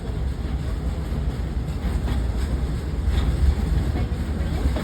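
A train rumbles along the rails approaching a tunnel, with a steady low roar and faint rhythmic clatter, heard from close by.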